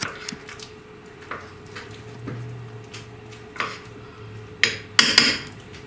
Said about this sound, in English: Nutella is thick, so gotta use my muscles to mix all this.